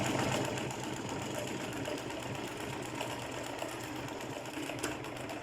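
A sewing machine stitches a straight seam through fabric, a continuous fast mechanical whirring and clatter heard up close at steady volume.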